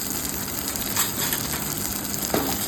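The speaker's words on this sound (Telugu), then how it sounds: "ఆనియన్, పచ్చిమిర్చి, ఎండుమిర్చి, కరివేపాకు వేసుకొని ఇది కూడా కొంచెం ఫ్రై చేసుకోవాలి" Onion, green chilli, dry chilli and curry leaves fry in a pan, giving a steady close sizzle with a few soft stirring scrapes and no voices.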